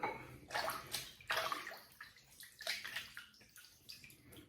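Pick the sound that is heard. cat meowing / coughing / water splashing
water splashing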